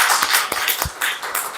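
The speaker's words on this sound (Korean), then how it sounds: "박수 좀 쳐주시겠어요?" Congregation applauding during a Korean church worship service, a dense crackle of many hands clapping together, steady and close throughout.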